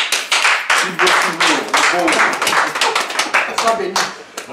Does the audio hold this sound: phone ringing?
no